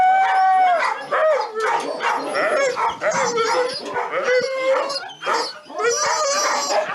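Ownerless dogs at an animal shelter in Irpin barking and howling together, a loud, overlapping chorus of howls and yips with several dogs close by.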